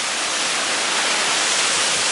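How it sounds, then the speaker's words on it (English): A waterfall roughly 55 feet high on a hiking trail gives a steady, dense broadband roar that fills the whole short stretch without any voices. "It's about 55 feet the waterfall."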